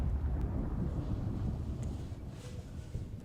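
Movie thunder from lightning, a deep sustained rumble rolling low and steady throughout, loud and dense with no distinct crack or talking.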